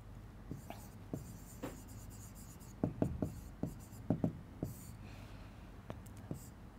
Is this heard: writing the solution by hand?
yes